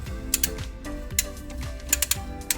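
A wrench ratchets on a bolt near the air filter housing of a classic Italian sports car, giving a brief series of sharp metallic clicks in uneven bursts, close and fairly clear.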